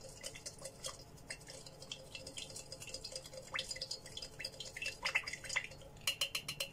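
Homemade hair oil of green tea and olive oil stirred in a small container, with close, irregular clinks and scrapes of a utensil against the sides and faint liquid sloshing, growing busier toward the end; no speech.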